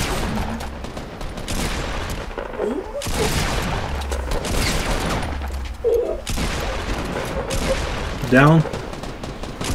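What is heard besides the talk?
gunfire in Fortnite Battle Royale video game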